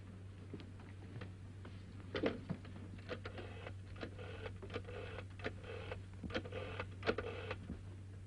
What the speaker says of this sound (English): Will you ring up Whitehall 1212? May I use your phone?